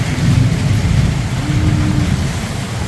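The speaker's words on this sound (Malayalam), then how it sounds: "മഴ പെയ്യുമ്പം കാണാൻ നല്ല രസം അല്ലേ?" Steady, loud rain pours onto a path leading to a house, with a continuous close hiss and patter and a low rumble underneath throughout.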